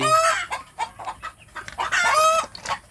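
Native village chickens clucking steadily with roosters crowing over them, close and loud, several birds calling in overlapping bursts with no talk.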